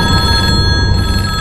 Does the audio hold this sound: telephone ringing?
yes